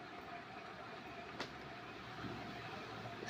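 Train in the Spider-Man: Miles Morales video game, a steady low rumble of a moving train with a single sharp clank partway through, no voices over it.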